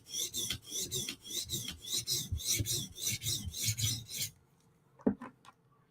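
A knife rasps rhythmically against a sharpening stone to raise a burr on the backside, about a dozen even strokes close by, then a pause and a couple of faint knocks.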